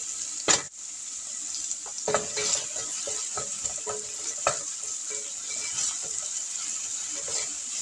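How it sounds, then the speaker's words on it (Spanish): Chopped peppers and garlic sizzle and fry softly in a hot pan, a steady hiss broken by scattered taps and scrapes of stirring, close and fairly quiet with no talking. "Por 2 minutos lo sofrío."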